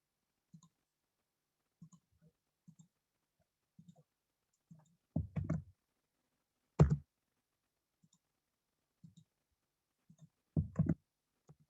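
Computer mouse clicks and a few keystrokes while posting a link into a meeting chat, sparse and quiet, single clicks spread across the clip with a few brief clusters, no talking.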